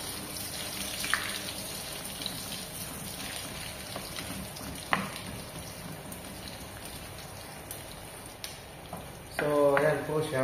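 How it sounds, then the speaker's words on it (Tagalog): Onion fries in a hot pan with a steady crackling sizzle and scattered pops, and a person talks briefly near the end. "Ilalagay natin ang sibuyas ngayon"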